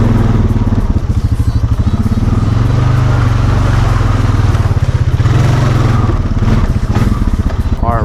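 A Honda Foreman ATV on Outlaw 2 mud tires churns through mud in four-wheel drive, its engine a loud, close, steady throbbing rumble with rapid pulsing and light spattering clatter throughout.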